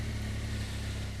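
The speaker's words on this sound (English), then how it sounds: "The engine noise sounds so much better through the helmet camera." A motorcycle engine heard through a helmet camera on the road: a steady, smooth mid-pitched drone with low rumble and little wind noise, continuous throughout.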